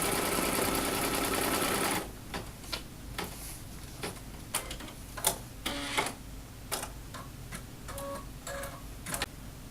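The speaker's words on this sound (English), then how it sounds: "I'm going to go ahead and initiate my machine to do that placement stitch" An embroidery sewing machine stitches an applique placement stitch, opening with a loud continuous whirring run, then settling into a quieter steady hum broken by sharp ticking clicks at irregular intervals, close up with no talk.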